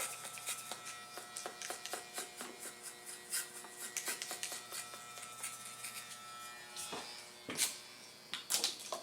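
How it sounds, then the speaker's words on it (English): Electric hair clippers buzz through hair at a barbershop, a steady high whir with repeated short bursts and strokes as the blades pass, close and alone without talk. "I'm using my wrist and getting really comfortable with my clippers."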